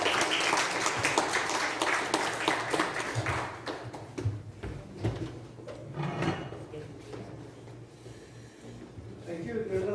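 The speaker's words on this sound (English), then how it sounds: "A huge round of applause." Applause from an audience at a Toastmasters youth leadership event breaks out, dense clapping at first that thins and fades toward the end, with a voice speaking over it.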